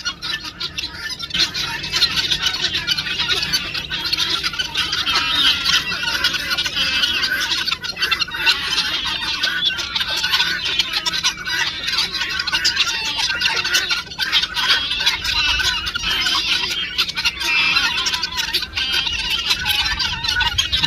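Continuous loud squawking and clucking from farm chickens, nearby and busy, with overlapping calls throughout and no one talking.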